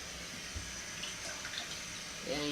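Water poured into a cooking pot for fish with salt and seasoning cube added, a soft continuous splashing stream that grows fuller near the end, heard close in a kitchen.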